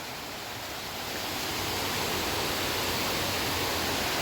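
A village waterfall at Guhagar Velneshwar roars as a dense, steady rush of falling water, loud and close, building slightly in the first second and then holding constant with no voices.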